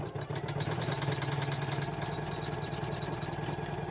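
An embroidery machine sews satin stitches on an in-the-hoop patchwork block, giving a loud, steady, rapid mechanical clatter that runs unbroken throughout with no voices.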